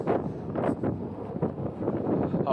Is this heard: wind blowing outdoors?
yes